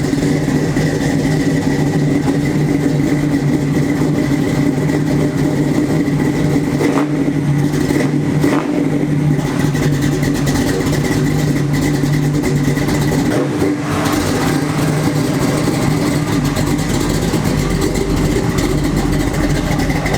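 A Nissan S14 engine running close by, a loud steady droning hum that holds almost unchanged throughout, with a couple of brief dips and rises.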